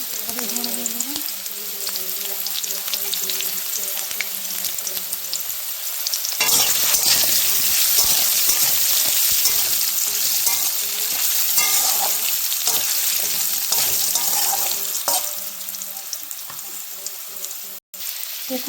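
A loud, steady sizzle of eggs frying in a pan runs throughout, with occasional scraping and stirring sounds.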